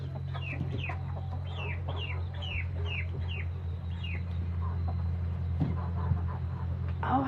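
Free-ranging chicken flock and a rooster in the rain, clucking repeatedly at close range over a steady low hum, with the calls thinning toward the end.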